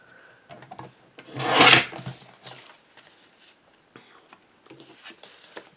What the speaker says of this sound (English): I'm going to trim a little bit off that left side, right to the edge of those hearts